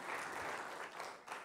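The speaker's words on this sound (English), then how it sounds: "please give a big round of applause to all the scientists who have realized" Audience applause fills a physics lecture hall, a steady dense clapping that holds loud throughout and dips briefly near the end.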